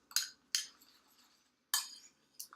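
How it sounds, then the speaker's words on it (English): A spoon clinks against a bowl while stirring cereal with marshmallows, four sharp separate taps spaced unevenly, close and fairly quiet, with near silence between them. "Let me stir that too, just to make sure that we're getting the same amount of stirring"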